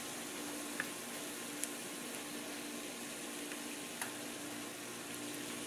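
Calzones rotos dough frying in hot oil, a steady, even sizzle and crackle running throughout with a few faint clinks, no voices.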